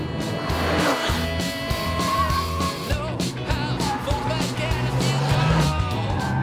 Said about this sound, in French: vous entendez les pneus qui hurlent